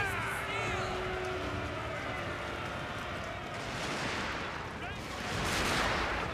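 Rifle volleys and artillery rumble in Total War: Fall of the Samurai, a dense continuous battle din with distant crackling shots, under a commentator's voice.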